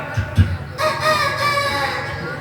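A voice imitates a rooster crowing, a drawn-out strained call that rises after a couple of short bursts, fairly loud and close, during a sermon.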